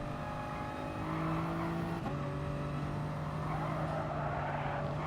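A Toyota Supra race car in a racing game at Bathurst: a steady engine drone with tonal whine and a brief shift-like break midway, then sustained running at moderate level, no talk.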